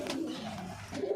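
A pet pigeon gives a short, low, soft coo, close by and alone.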